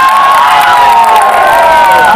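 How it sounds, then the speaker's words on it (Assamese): A large crowd at a live Bihu stage show cheers and shouts loudly, a dense, sustained roar with whoops and scattered clapping, close and filling the space. "এবাৰ জোৰকে হাত চাপৰি এটা দিয়কচোন"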